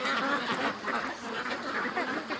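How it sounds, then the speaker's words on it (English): A flock of ducks penned in for the night quacks continuously, many overlapping calls forming a dense, steady chorus that stays close and fairly loud throughout. "Ducks are locked down for the night."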